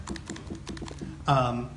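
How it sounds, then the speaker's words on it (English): Typing on the thin, shallow-travel, clicky keyboard of a 2016 rose gold MacBook, a quick run of light, close keystrokes before a voice starts speaking near the end. "The keyboard is very, very thin. It doesn't have very deep key travel, and it's pretty clicky when you type on it."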